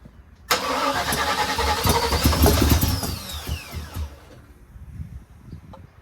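The engine of a 1979 Chevrolet Malibu project car with weak compression cranks and catches, bursting into a loud, close, rough idle for a few seconds before cutting out, leaving faint sounds behind.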